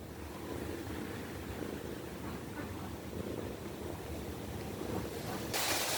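Steady wind roars continuously, a broad rushing noise that swells slightly in the final moments.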